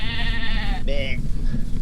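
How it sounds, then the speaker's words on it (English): A sheep bleats on a hillside in the Peak District near Dovedale, Derbyshire. A long wavering bleat is followed by a shorter one, clear and fairly close over steady wind or bike noise. "Sheep."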